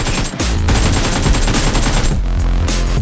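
Rapid bursts of automatic gunfire ring out in the mobile battle royale game BGMI, loud and continuous with brief pauses between volleys.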